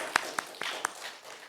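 A few scattered claps ring out from a church youth congregation during a Sunday sermon, four distinct sharp hand claps at uneven intervals, moderately close, fading into quiet room tone.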